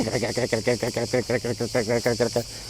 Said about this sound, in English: these bugs that they are cicadas, you can hear them